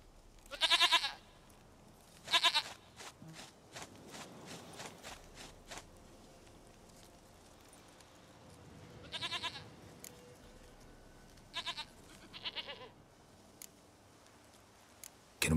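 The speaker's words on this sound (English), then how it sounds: "Goat of mine, dearest, sweetest goat." A goat in The Witcher 3: Wild Hunt bleats in several loud, quavering cries spaced seconds apart, each a shaky burst, with faint ticking and clip-clop between calls.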